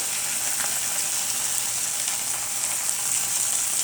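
Tilapia fillets frying in a hot pan, a loud, steady, close sizzle and crackle of oil that holds constant throughout with no voices.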